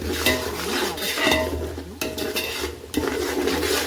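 Lemon pickle with mustard and fenugreek powder is stirred and sautéed in a pan, with repeated metal spoon scrapes and clinks against the pot over a faint sizzle.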